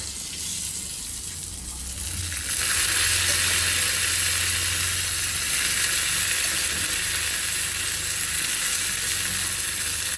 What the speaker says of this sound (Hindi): तो चलिए अब ये तड़का डाल देते हैं इसमें